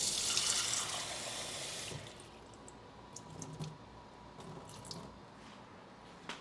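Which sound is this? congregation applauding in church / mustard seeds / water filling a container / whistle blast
water filling a container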